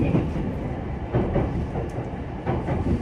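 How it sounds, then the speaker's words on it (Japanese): A Tokaido Line commuter train runs on its rails in Japan, a steady dense rumble with faint rhythmic clatter and no voices, heard from inside the carriage. "This is the Tokaido Line train for 小田原"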